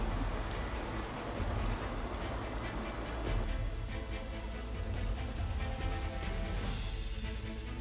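Heavy rain pours down in Navi Mumbai, making a constant, even hiss of water on surfaces with no voices over it.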